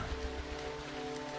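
Rain falls steadily in a soft, even patter, faint and continuous with no voices over it.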